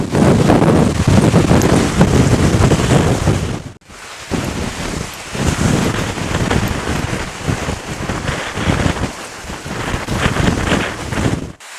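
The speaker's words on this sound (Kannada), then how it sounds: "ಸಿಕ್ಕಾಪಟ್ಟೆ ಗಾಳಿ ಬೀಸ್ತಾ ಇದೆ" Strong wind at a reservoir buffets the microphone in loud, continuous roaring gusts, with a brief drop to near-silence partway through before the rumbling blast resumes.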